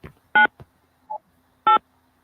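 Telephone keypad tones as an access code is dialed: two loud, clear beeps and a fainter one between them, separated by brief pauses, with a few soft clicks and no talking.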